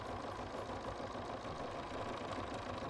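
A Bernina embroidery machine stitches a design onto a sock in a sock hoop at slow speed, giving a steady, close mechanical whir with a fine rapid stitching rhythm throughout.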